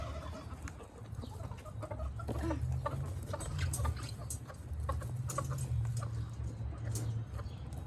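Several chickens, including a broody hen, cluck softly and repeatedly in a low, busy murmur of fowl sounds with scattered sharper clucks, fairly close and without speech.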